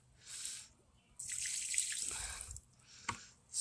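Water poured around the base of a dogwood tree, soft splashing and trickling in a few short bursts, fairly faint and close, with no talking.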